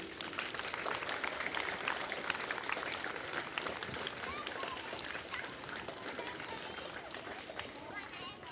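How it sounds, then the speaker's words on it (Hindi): Crowd applause for children at an Independence Day celebration outdoors, dense continuous clapping mixed with chatter and background voices, fairly distant and steady throughout. "तालियां बजाएं इन बच्चों के लिए।"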